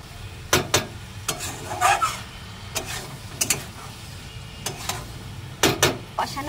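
Okra and potato pieces tipped into a pan of frying spices and stirred, with a soft sizzle under repeated sharp spatula scrapes and knocks against the pan, close by and with no speech.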